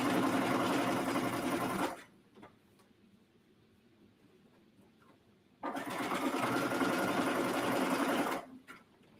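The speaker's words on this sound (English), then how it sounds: "I'm going to top stitch over the first stitch as well, so that secures both edges." A sewing machine runs close and loud while top stitching a seam on swimwear fabric, in two sustained bursts of fast rhythmic stitching separated by a quiet pause of a few seconds.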